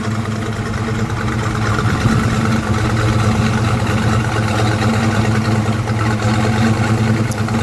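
A 1968 Pontiac GTO coupe's engine idles loud and close, a steady deep rumble with a continuous throb that holds without revving throughout.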